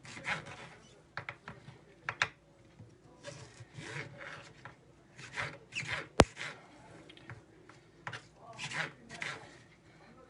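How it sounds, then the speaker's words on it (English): A knife chops corn into small pieces on a wooden board for Thai fishcakes: a close, fairly quiet run of irregular cuts and scrapes, with one sharp knock partway through. "so we're going to cut our corn into 6 again"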